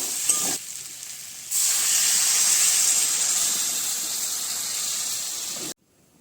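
Water hits a pan of spiced curry with turmeric and chilli powder, made with yam and prawns, setting off a loud, steady hiss and sizzle that swells after a brief dip and then cuts off abruptly near the end.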